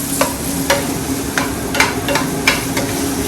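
Plant-based sausage links and soft vegetables for a vegetarian jambalaya are stirred in a sizzling pan, with a steady close fry broken by several sharp utensil scrapes and clacks against the pan.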